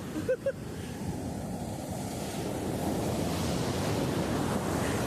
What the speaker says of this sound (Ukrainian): Дивіться, дивіться, яка волна йде.